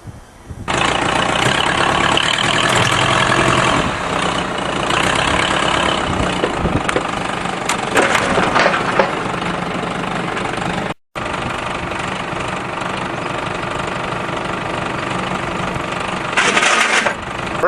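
A Pontiac transport van engine, just repaired after a broken frame, runs steadily at close range with a rough, knocking mid-pitched drone and brief revving surges near the end.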